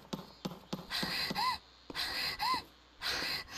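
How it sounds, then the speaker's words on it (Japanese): Heavy, ragged panting from a character in the horror game Yuuoni, a run of sharp gasping breaths in uneven bursts with short pauses, close and fairly loud with no talking over it. "すごい息切れるんだよね。"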